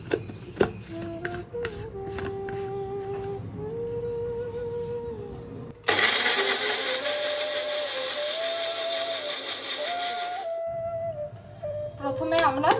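A blender whirs loudly for about five seconds, grinding a banana with a splash of milk into a paste, with talk before and after the run and kitchen clatter at the start.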